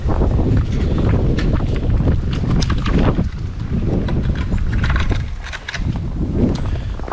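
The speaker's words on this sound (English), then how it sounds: "That wind is painful on the face." Cold winter wind blowing hard across a microphone outdoors on a frozen homestead, a loud continuous buffeting roar with gusty swells throughout.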